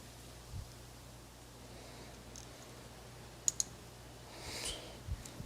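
A car alternator plug connector clicks into place, a quick double click at close range in a quiet space, followed by faint handling rustles.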